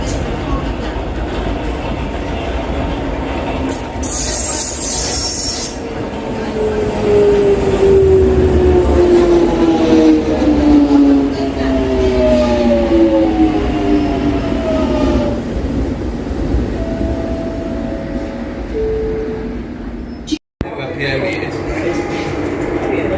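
A London Underground Jubilee Line train approaches the platform with a loud, sustained rumble, and rising and falling wheel squeals sweep across it. A platform announcement voice sounds over the noise, and a brief sharp dropout comes near the end.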